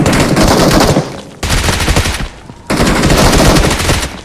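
Automatic gunfire in PUBG Mobile sounds in three loud, close bursts, each rattling for about a second with short gaps between them.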